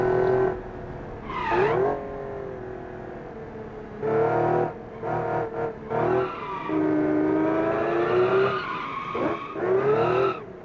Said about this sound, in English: I love how it keeps shifting between first and second because it can't figure out how to handle that